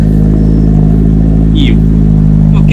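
A Toyota GR86 sports car engine runs loud and close with a deep steady drone, a brief higher rev rising partway through.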